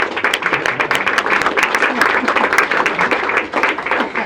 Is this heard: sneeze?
no